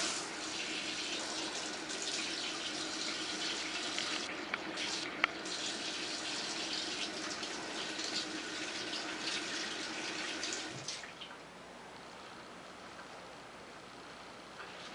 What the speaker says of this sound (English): first you have to wash your hands with soap and water